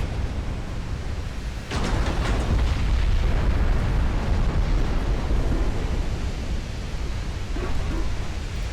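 Rocket explosion during a naval video game battle: a sudden loud burst, then a dense rumbling roar that holds steady and slowly fades, with no talk.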